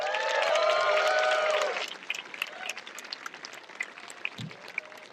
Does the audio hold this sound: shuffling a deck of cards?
no